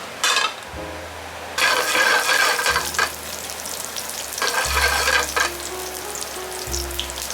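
Olive oil with chopped garlic sizzles in a pan over a high flame, a loud crackling fry with bursts of stirring and clanks of utensils against the pan, over a low electric hum.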